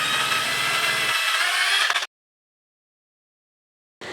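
A power drill bores through a rubber pad set at a joint on a coconut-tree climbing robot build. Its loud, steady whine shifts tone midway, stops abruptly after about two seconds, and briefly starts again after silence.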